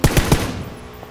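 A short burst of rapid AK rifle gunfire in a video game, three or four sharp cracks in quick succession, then fading into quiet background noise.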